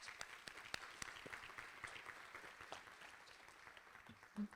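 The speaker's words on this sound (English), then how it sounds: "They deserve a round of applause." Applause from the audience at the 39th annual meeting of Citizens for Modern Transit, a faint, steady patter of many hands heard from a distance.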